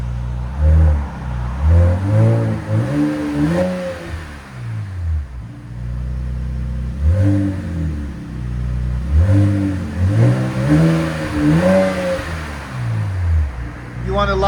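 A 2026 RAM 1500 with the 3.0L Hurricane inline-six and a Flowmaster Super 10 exhaust revs up in repeated bursts, rising and falling several times close by, with someone talking between the pulls.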